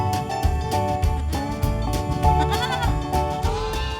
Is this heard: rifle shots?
no